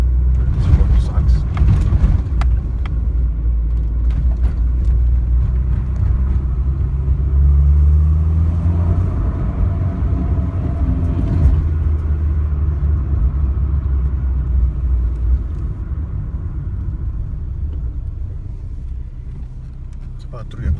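A 1990 Mazda 323 engine drones loudly from inside the car, rising and falling in pitch as revs climb and settle, with a heavy low rumble throughout and people talking over it.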